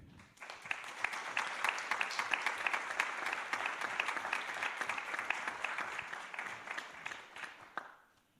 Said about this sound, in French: Merci d'accueillir et d'applaudir Axelle Lemaire.